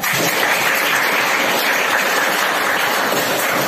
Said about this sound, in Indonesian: Tepuk tangan untuk sejarah.